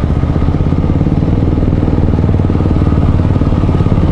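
A motorcycle engine drones steadily and loudly up close while riding through a tight traffic jam, with a continuous rough rumble and no speech.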